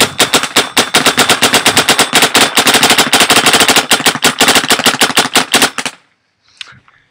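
A Planet Eclipse Etha paintball marker fires in semi-automatic mode, a long fast string of sharp, loud pops in quick succession that stops abruptly, followed by brief quiet with a faint rustle.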